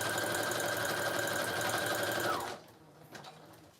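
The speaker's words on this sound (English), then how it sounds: "Once I'm done sewing." A sewing machine stitches junk journal pages made with a vintage sheet theme, running in a steady, fast mechanical whir for about two and a half seconds before stopping abruptly, leaving quiet room sound.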